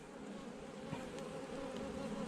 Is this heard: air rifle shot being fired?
no